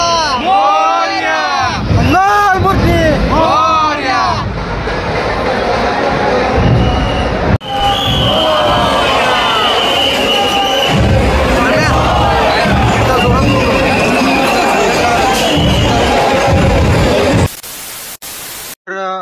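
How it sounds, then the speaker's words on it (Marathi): Dense festival crowd at a Ganpati arrival procession in Pune, a loud hubbub of many voices with whoops and cheers close by, and talk heard over the din before it drops away near the end. "गर्दी बघा, गर्दी."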